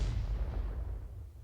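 A Hummel self-propelled artillery gun fires a single counter-battery shot in World of Tanks, a deep booming blast that rolls away into a fading rumble, heard alone and at a distance.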